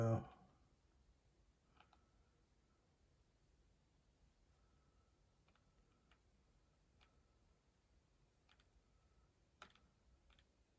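Computer mouse clicks on a desk, a sparse series of soft single taps spaced irregularly over a quiet background, plus a brief louder bump at the very start.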